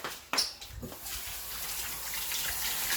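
Garlic cloves rinsed under a running kitchen tap: a few knocks and splashes at first, then a steady, close rush of flowing water.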